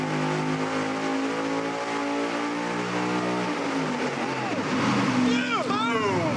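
A 1,500 horsepower supercharged, nitrous-fed big-block Chevy engine runs loudly and steadily on a dyno, its roar holding throughout as the revs sweep up near the end, with voices talking over it.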